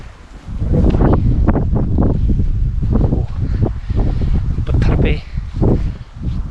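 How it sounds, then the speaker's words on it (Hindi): Wind gusting through a snowy Himalayan forest near Narkanda, a loud, steady rushing roar buffeting the microphone while someone talks over it. "हवा चल रही है, पेड़ों से बर्फ़ छूट रही है नीचे।"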